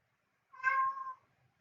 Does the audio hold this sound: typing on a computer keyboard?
no